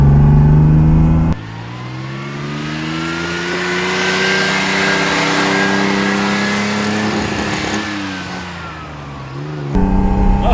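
A 1973 Ferrari Dino 246 GT engine in the Forza racing game, revving loudly and rising then easing in pitch in one long sustained pull, close and alone with no talk.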